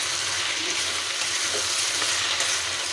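Onions frying in a few spoonfuls of oil with salt give a steady, close sizzle, with soft scraping as they are stirred around the pan throughout.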